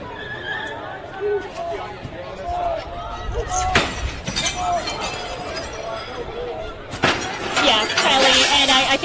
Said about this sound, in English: I think you hear that breaking glass behind me here